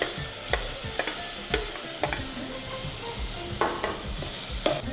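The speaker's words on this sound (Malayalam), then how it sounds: "ഇനി നമുക്ക് ഈ ബീട്രൂട്ട് ഒന്ന് ചെറുതായിട്ട് വഴറ്റിയെടുക്കാം." Beetroot is sautéed in a pan for an Onam Sadhya dish. A spoon scrapes and stirs in regular strokes over a soft, continuous sizzle, heard close with no talking.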